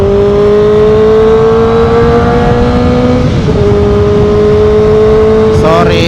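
A ZX motorcycle engine accelerates to overtake, a loud, close, steadily rising whine that dips briefly and climbs again as it pulls ahead.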